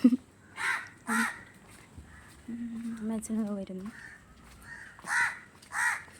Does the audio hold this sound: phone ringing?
no